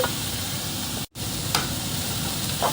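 Garlic hits a hot frying pan while cooking chicken with mushrooms, a steady bright sizzle that breaks off for an instant and resumes, with faint clinks of stirring, close and continuous.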